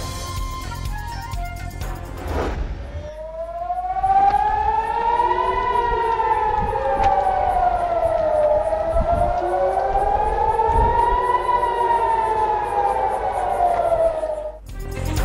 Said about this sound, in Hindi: मकबूजा बैतुल मकदस में सायरन बज उठे।